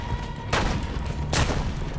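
Two loud, booming gunshots roughly a second apart in Assassin's Creed Brotherhood, standing alone over a steady low game backdrop with no talking.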